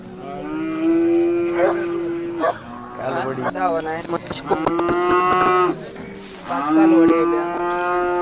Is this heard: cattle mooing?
yes